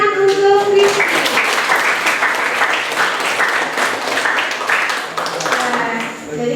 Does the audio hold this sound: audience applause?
yes